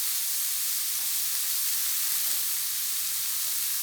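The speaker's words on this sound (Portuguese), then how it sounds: "refogando aqui a minha cebola." Onion sautéing in a thick-bottomed pan, a steady, even sizzle and hiss of frying that runs unbroken throughout at moderate level, with no voices.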